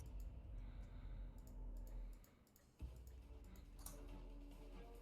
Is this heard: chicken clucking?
no